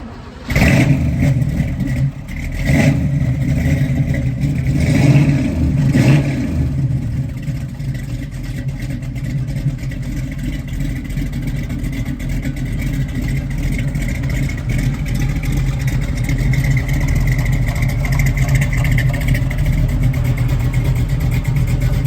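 A 1968 Chevrolet Camaro SS convertible engine cranks and catches, then settles into a loud, steady rumble with a few revs near the start, heard up close with no talking.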